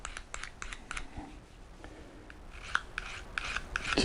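Metal file drawn across a garden tool blade to hone off the burr, a quick series of light rasping strokes, close and fairly quiet, growing a little louder toward the end.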